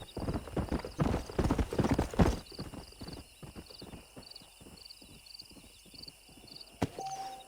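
Hooves clip-clop steadily from a horse in the Red Dead Redemption video game, with a whinny, loud and close at first, then settling into a quieter rhythmic trot.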